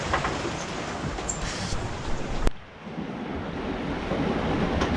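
Small sea waves, about four feet high, wash and rush against a sailing boat running downwind in a 15-knot breeze on blue water, a steady broadband surge with wind noise, loud and close, no voices.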